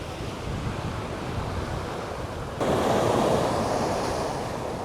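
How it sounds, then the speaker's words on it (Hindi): Sea waves rolling onto the shore in Chittagong, Bangladesh, a continuous close roar of surf mixed with wind buffeting the microphone, swelling louder midway through. "वो जो समुंदर की आवाज़ें हैं, समुंदर की लहरें आती हैं।"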